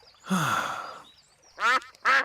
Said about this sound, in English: It is Mrs. Duck and her friends.